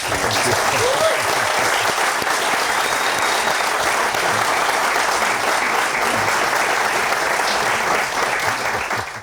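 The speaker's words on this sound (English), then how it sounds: "let's give Alan Morris a big round of applause" Steady, dense applause from a large audience greeting an author at a book launch, filling the room evenly and loud throughout with no break.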